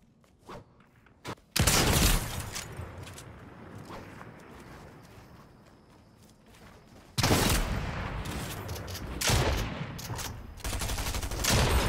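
Gunfire in a Fortnite Tilted Towers match, with a couple of sharp early shots followed by two long, loud bursts of rapid fusillade separated by a quieter stretch.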